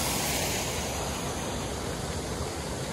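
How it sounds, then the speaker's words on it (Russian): Constant, dense roar of falling water, broadband and unbroken throughout, like a waterfall heard from close by. "Водопад."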